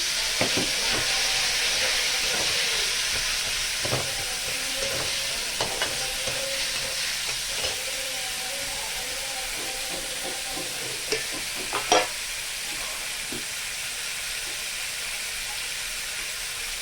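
Green peas and spices stir-fry in a pan while cooking pumpkin greens with prawns in a village kitchen, a steady close sizzle and hiss throughout with occasional scraping stirs and clinks.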